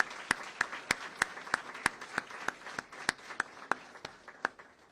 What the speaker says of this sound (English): give these troopers and these public servants here a round of applause for their service